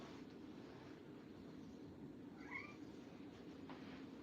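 A cat behind a closed door gives a single faint, muffled meow midway through, alone over a quiet room hum.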